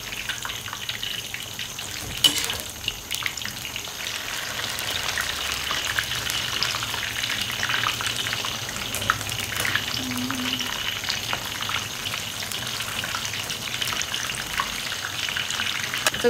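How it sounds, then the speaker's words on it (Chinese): Scored eggplant deep-frying in hot oil in a Sichuan home kitchen gives a steady, bubbling crackle and hiss that runs continuously at a moderate level, with a few sharp clicks and no talking over it. "改了刀就直接炸就行了"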